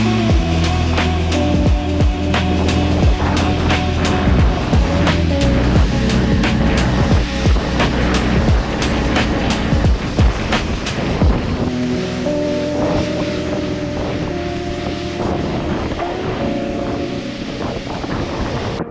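A pressure washer rinses a BMW G12 750 luxury sedan, giving a loud, steady, close rushing spray hiss that carries on without a break for the whole stretch.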